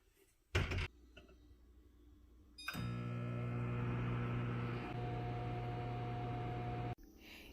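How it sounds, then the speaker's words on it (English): A microwave oven heats soup: a door clunk, then a steady hum with a low drone and a faint high tone running for several seconds before stopping, followed by a quieter click. "We heated the soup in the microwave oven."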